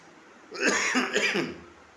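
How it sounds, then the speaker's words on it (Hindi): A few harsh coughs in a quick burst, close and fairly loud, with no talking around them. "क्षमा कीजिएगा, खांसी थोड़ा ज़्यादा आ गई।"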